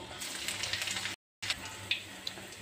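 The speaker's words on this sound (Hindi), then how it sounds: "ऑयल गर्म हो चुका है, अब हम जीरा डालेंगे, हींग, लाल मिर्च," Cumin, asafoetida and red chilli hit hot oil in a pan for potato curry, giving a close, continuous crackling sizzle with sharp pops and a brief silent gap.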